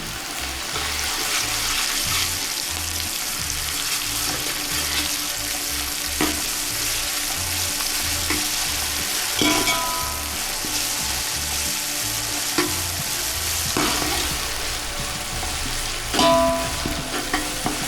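Ginger garlic paste frying for mutton pulao, a loud continuous sizzle broken by repeated scraping stirs and occasional clinks of a spoon against the pan.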